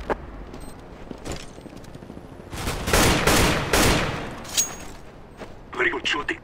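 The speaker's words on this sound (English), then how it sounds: "Very good shooting" Gunfire in a shooter video game: scattered shots building to a loud burst of rapid fire in the middle, then quieter pops with brief game sounds near the end.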